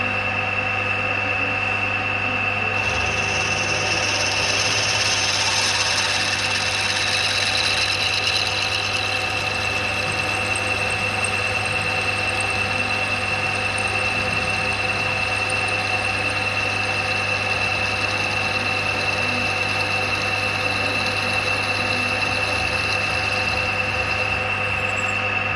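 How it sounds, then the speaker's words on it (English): Steady machine drone of a drill running continuously through a large bit into a steel shaft tube for a 4 1/2 inch Burrell build, a constant mechanical hum with a high whine, no voices. "After drilling the smaller holes, then we could move on to the bigger drill bit"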